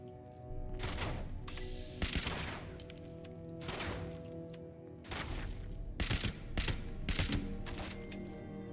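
Gunfire in the video game Fallout 76: repeated loud shots and bursts cracking over a steady background hum, with several sharp reports clustered in quick succession.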